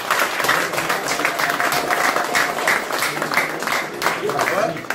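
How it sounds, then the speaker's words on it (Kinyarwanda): An audience applauding, dense steady clapping filling the room at an even level throughout. "mufashe tubaha amashyi."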